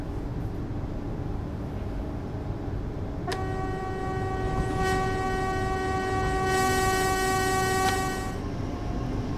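A simulated train in the game Train Sim World 4 rumbles steadily. Its horn blasts loudly for about five seconds partway through, then the running sound carries on with no talking.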